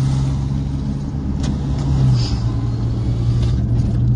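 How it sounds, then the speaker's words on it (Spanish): Steady street traffic with several cars and other motor vehicles driving past near a school at pickup time, engines humming and swelling continuously for the whole stretch with no talk. "Se siente lo que ya es el tráfico."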